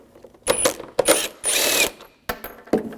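Ratchet with a T30 socket backing out a headlight screw on a 2007-2013 BMW 328i: several short bursts of quick, close mechanical clicking separated by brief pauses, with no voices.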